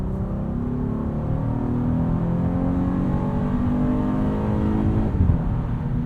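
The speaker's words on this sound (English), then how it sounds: "The V6 is actually a little bit louder in this car, and I think sounds better." A 2020 Acura MDX with the V6 engine accelerates steadily on the road, giving a moderate, continuous engine drone heard from inside the cabin, with no talking.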